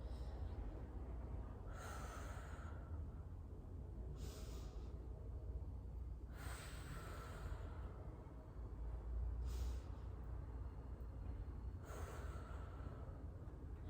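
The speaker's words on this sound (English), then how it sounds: "I'm going to take several deep breaths here." Slow, deep breaths taken while holding a scoliosis correction exercise pose, five long airy inhales and exhales spaced a few seconds apart, close and quiet with no talking.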